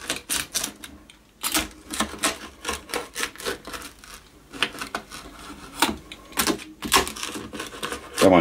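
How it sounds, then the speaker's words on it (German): A pizza cutter rolls through the crispy crust of a hot smoked-fish Flammkuchen, giving loud, close, crackling crunches in uneven bursts as the thin dough is sliced lengthwise and into small pieces. "man hört, der Teig ist also wunderbar knusprig"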